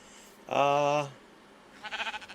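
A pink sheep in Minecraft gives a single clear bleat, close and loud, followed by a brief fainter wavering call.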